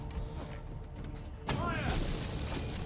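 Cannon fire aboard a ship in Assassin's Creed Valhalla: a heavy boom bursts in midway and leaves a rumbling, crackling wash, with a voice shouting over the noise before the blast.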